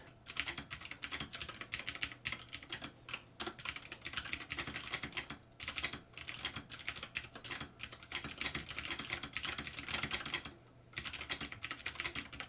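Fast, continuous typing on a mechanical keyboard with blue switches, a wireless Bluetooth, 2.4 GHz and USB model, giving crisp, clicky keystrokes at a steady busy rhythm with brief pauses, close and alone.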